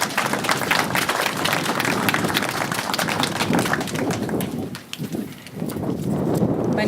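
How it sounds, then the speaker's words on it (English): Audience applause at a gathering welcoming a Native American woman from Standing Rock to the stage, dense and steady clapping that fills the whole stretch, easing briefly near the end before swelling again. "Let's give her a round of applause"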